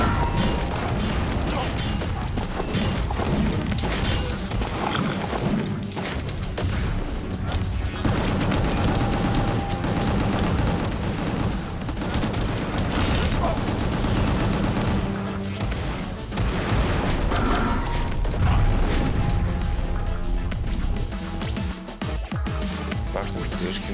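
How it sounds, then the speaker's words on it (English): A sustained barrage of missiles and gunfire in the video game Gungrave G.O.R.E, with loud mechanical clanks, rapid shots and booms running continuously at high volume, no voices. "Missiles."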